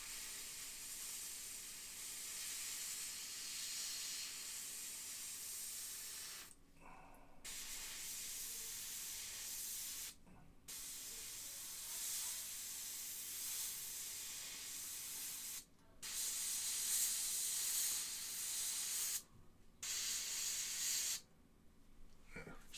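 Airbrush spraying paint onto a Funko Pop Warhammer 40,000 Intercessor figure, a soft, close hiss in several long bursts separated by short silent gaps.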